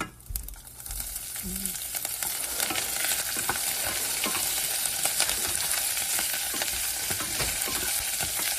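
Curry leaves and chillies sizzle and crackle in hot oil while being stirred in a pan for a South Indian moong dal and bottle gourd curry, a steady close-up frying hiss with scraping stir sounds throughout.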